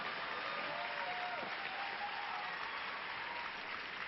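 A steady wash of audience applause at a theatrical storytelling performance, heard fairly faint and distant, with a murmur of voices faintly audible at times.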